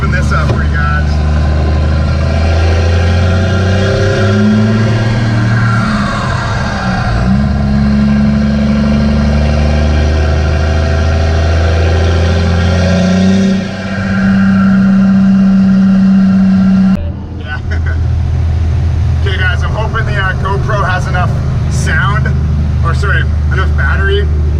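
A first-generation Cummins diesel in a tow truck, fitted with big injectors, idles and revs in a steady low rumble that swells and drops, with a brief pause in the middle, while people talk nearby.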